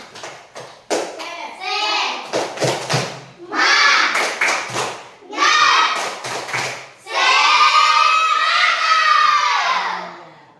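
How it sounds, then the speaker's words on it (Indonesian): A school class performs a rhythmic clapping cheer led by a teacher, loud bursts of children's voices chanting together with sharp claps, several short phrases in a row ending in a long sustained shout. "Coba kita yel-yel dulu, tepuk semangat ya."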